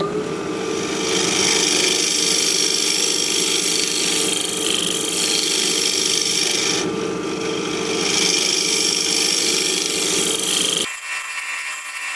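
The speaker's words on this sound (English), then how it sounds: "We'll try my 1-inch scraper. Negative rake." Continuous rough scraping of a 1-inch negative-rake scraper against wood spinning on a lathe, steady and loud with a motor hum underneath, cutting off abruptly near the end.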